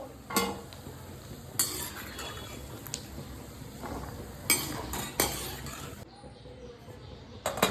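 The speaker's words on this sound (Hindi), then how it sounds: "काजू भी अच्छा से फ्राई हो गया। तो अब हम इनको भी निकालते हैं थाली में देखो।" Cashews being lifted out of hot frying oil onto a plate, with scattered clinks and scrapes of a metal spoon and utensils over a faint sizzle, a few sharp knocks standing out, no talking.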